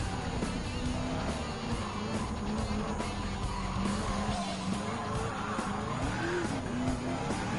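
Race cars in the Gran Turismo 7 video game, including supercars and hypercars such as a Lamborghini Diablo, with steady engine whine and tire squeal at moderate loudness.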